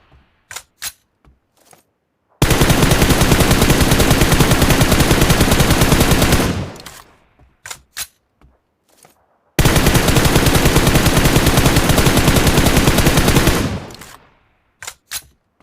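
Two long sustained bursts of rapid automatic rifle fire at shooting-range targets in PUBG Mobile, each lasting about four seconds, loud and close, with a few sharp single shots and clicks between and before them and no talk.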